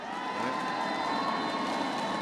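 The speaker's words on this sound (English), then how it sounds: "The crowd are just giving a little bit more inspiration to Manuputty." Crowd cheering and shouting steadily at a women's singles badminton group-stage match in the Axiata Cup, a dense, continuous roar of voices without pauses.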